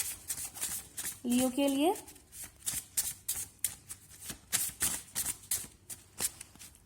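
Handmade tarot cards shuffled and drawn for a reading, a rapid series of crisp papery flicks and riffles, close and clear, with someone speaking briefly over the start.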